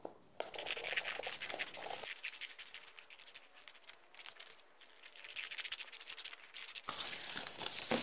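Scissors cut circles from old book pages, a steady run of crisp paper snips and rustles close up with no talk.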